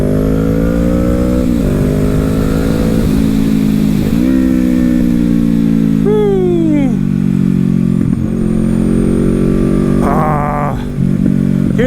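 A motorcycle, the rider's former 650, cruises along back roads with a steady engine drone and several rises and falls in revs as it shifts. Wind noise sits under the engine and the rider speaks at moments.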